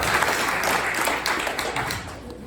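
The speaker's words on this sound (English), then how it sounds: "Let's give him a round of applause." Audience applause for Steve at a New Hampshire political event, a broad steady wash of clapping hands sustained throughout without any voices on top.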